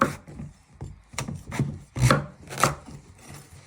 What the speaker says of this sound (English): then you just want to chop it into 3